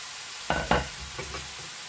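Cabbage fries in a pan with a low steady sizzle, broken by two close scraping stirs and then a couple of softer ones.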